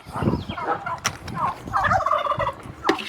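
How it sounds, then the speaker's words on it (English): A Royal Palm turkey gobbles nearby in a rapid, rattling call, followed by softer clucking sounds, all heard close and clear. "He's done some gobbling this morning."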